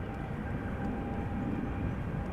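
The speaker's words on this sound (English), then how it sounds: "We have a Dreamliner spooling up." Boeing 787-10 Dreamliner engines spooling up at Amsterdam Schiphol Airport, a distant, broad, steady roar with low rumble, continuous and fairly faint, with no voices.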